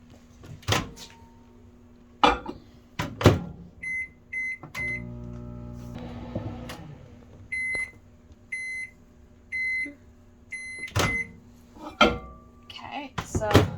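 A microwave oven warms a fish food mixture with duckweed, its door thudding and keypad beeping before a steady hum runs, followed by a series of short, evenly spaced completion beeps amid kitchen clatter.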